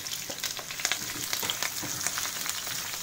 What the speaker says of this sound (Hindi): यहाँ पर मैं करी पत्ता ले रही हूँ सबसे पहले अभी यहाँ पर प्याज प्याज को भी लेना है हमें